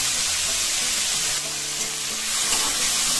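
Dried and fresh green chilies fry in hot oil with fenugreek seeds while being stirred. A loud, steady sizzle fills the whole stretch, and stirring shifts its texture slightly, with no talk.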